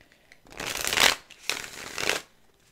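Two rustling bursts of tarot cards being shuffled, each about a second long, separated by a short pause, close and fairly loud.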